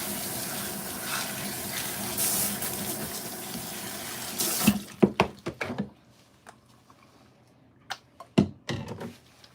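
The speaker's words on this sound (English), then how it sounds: "we're gonna rinse out her highlights, the lightener first" Water from a salon sink sprayer rinses lightener out of hair, a steady close gush for several seconds that suddenly stops, followed by scattered clunks, drips and handling sounds.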